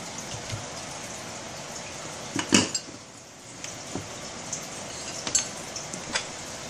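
A utensil mixes homemade cilantro-lime-jalapeno hummus with salt and pepper in a bowl, giving soft scrapes and light clinks against the dish, with one louder clatter midway.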